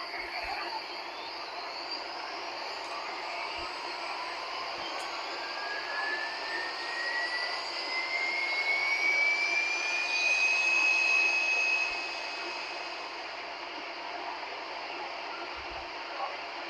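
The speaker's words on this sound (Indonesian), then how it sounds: "Oke, engine kita hidupkan seperti biasa." Jet aircraft engines spool up in the Real Flight Simulator game, a steady turbine roar with a rising whine that climbs in pitch and loudness before levelling off, heard alone without talk.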